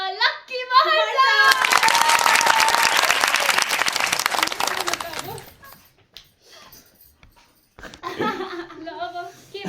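A small group claps loudly for the winner of a panipuri eating challenge, a burst of applause lasting several seconds, with children's voices and laughter before and after it.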